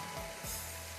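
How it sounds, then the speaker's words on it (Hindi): Minced meat (qeema) frying in a pan, a brief burst of steady sizzling with a couple of low scraping strokes, no talk. "अच्छी तरह से आपको इसको भूनना है।"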